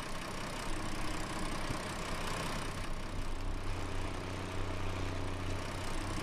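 An International Harvester tractor engine in Farming Simulator 19 runs with a steady, loud, low rumble that continues for several seconds without breaks or voices.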